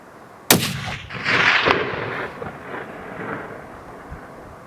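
A single rifle shot rings out during a Himalayan tahr hunt in New Zealand's mountains: one sharp, loud crack, then a long rolling echo that fades across the valley. No one speaks.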